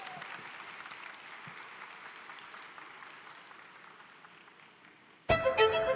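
Audience applause at a business event in Petrolina, a dense steady clatter of many clapping hands that slowly tapers, then cut off by a sudden loud burst of a different sound near the end.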